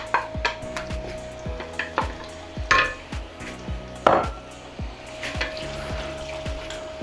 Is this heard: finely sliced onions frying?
yes